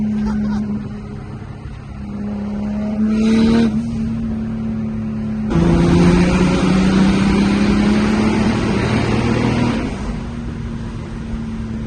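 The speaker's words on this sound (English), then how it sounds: "This wall makes the car so loud." A loud engine of a BMW E46 wagon drones steadily while driving, its pitch slowly rising and shifting as the car accelerates and changes gear, with the cabin made louder by a missing wall.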